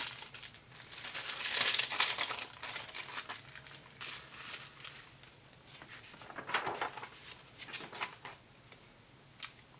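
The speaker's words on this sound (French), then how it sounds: "Encore mon papier de code de loi, bien croustillant." Crisp law-code paper crinkled and handled up close while crafting a book, repeated dry crackling rustles in bursts, quiet and intimate with no talk.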